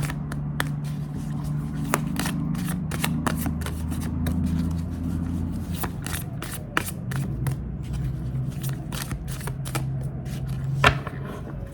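Tarot cards shuffled in the hands with rapid papery riffles and crisp flicks throughout, over a low steady hum and faint background tones, with no talking.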